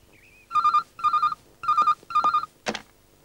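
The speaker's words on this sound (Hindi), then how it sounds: "राजू को फोन लगा।" A telephone rings in four short trilling bursts with brief pauses between them, followed by a click as it is picked up, in a quiet room.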